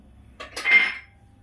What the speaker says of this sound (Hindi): दोस्तों कुकर का ढक्कन मैं बंद कर दी हूँ।